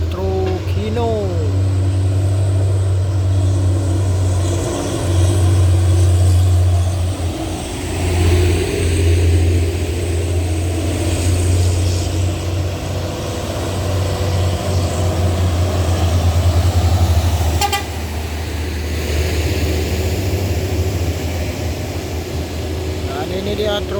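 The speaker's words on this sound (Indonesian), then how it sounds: "Oke bosku, ini dia truk Hino." A Hino truck's engine runs steadily with a loud, low rumble that swells at times as it revs, close by and continuous, with a voice talking over it in places.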